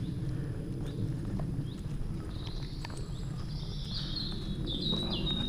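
Birds chirp and whistle faintly over steady outdoor rumble and hoof-like clopping, with a few bright high calls near the end.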